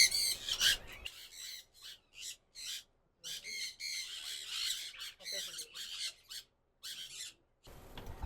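A parrot squawks from inside a nest box holding an albino female with three eggs, a series of harsh, close calls broken by short pauses, with a person talking intermittently.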